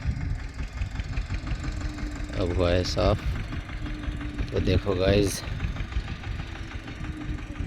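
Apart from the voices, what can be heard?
tractor engine running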